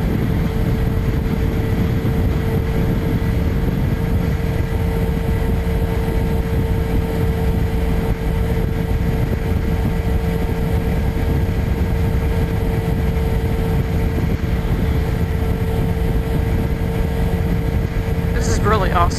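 A Kawasaki Ninja 300 motorcycle on a test ride, its steady engine drone and wind rush holding constant and loud throughout.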